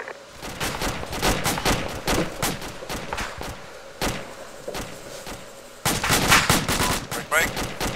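Rapid bursts of gunfire in the military video game Arma 2, sharp cracks repeating irregularly with dense volleys near the end, loud and close with occasional slams.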